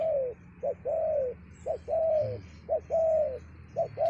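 A spotted dove coos in a steady series of soft, rounded calls, a few short notes between longer ones, close and clear against a quiet background.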